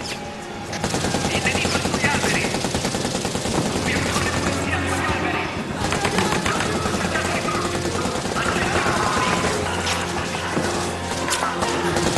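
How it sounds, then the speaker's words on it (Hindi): Sustained rapid gunfire from a helicopter rattles loudly and continuously over a dense rotor roar, heavy and close throughout, in a movie scene. "हेलीकॉप्टर हम पर गोलियां बरसा रहा है।"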